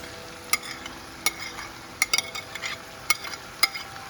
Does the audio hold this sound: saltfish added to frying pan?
yes